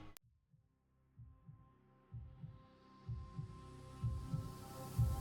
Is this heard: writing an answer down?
no